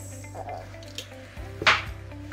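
Eggs cracked into a blender for a tres leches cake: a few small knocks and taps against the container, then a brief wet splat, close up over a low steady hum.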